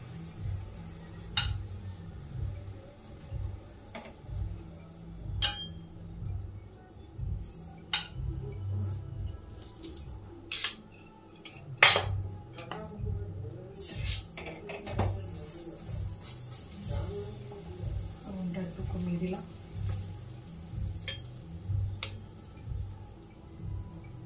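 Aloo paratha frying in a little ghee on a pan, a soft steady sizzle broken by scattered clicks and light clatter from turning the flatbread, fairly quiet throughout.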